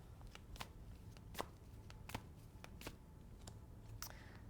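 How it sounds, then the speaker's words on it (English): Tarot cards are shuffled by hand, with a steady run of crisp riffles and flicks close to the microphone, alone. "I'm going to keep shuffling to see if something else comes out."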